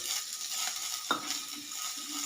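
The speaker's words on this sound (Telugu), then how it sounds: "అన్నీ దోరగా వేయించుకోవాలండి, కలర్ కొంచెం మారే వరకు." Onion, tamarind and other ingredients for an ivy gourd curry fry and get stirred in a pan, giving a faint, steady sizzle with soft scraping and one brief clink midway.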